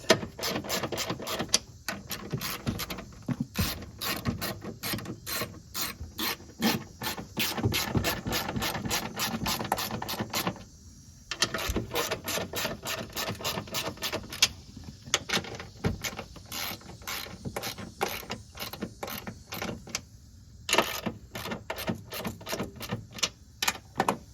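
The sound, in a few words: tightening Subaru Ascent strut top screws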